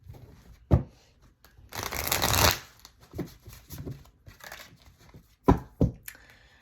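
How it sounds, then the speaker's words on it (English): Tarot cards are shuffled by hand in a quiet room, with riffling bursts, one long rapid flurry and scattered crisp slaps and snaps close to the microphone. "Let me shuffle my cards here."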